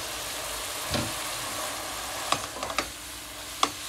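Pasta goes into a pan with tomato paste, salt and butter, a steady sizzle under several sharp clicks and taps of stirring.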